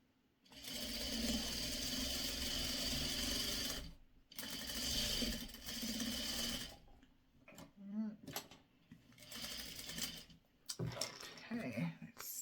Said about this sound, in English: I am sewing on a commercial Juki sewing machine